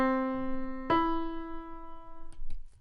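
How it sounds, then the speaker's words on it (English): A major third interval played on a keyboard-like instrument: a sustained lower tone joined by a second note near one second, the two ringing together and slowly fading, followed by soft knocks near the end. "So our major third sounds like."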